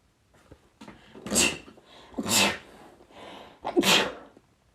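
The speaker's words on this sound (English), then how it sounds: "I might sneeze" Three sharp sneezes burst out in turn at roughly one-second intervals, close and loud against a quiet room, each a brief explosive hiss of breath.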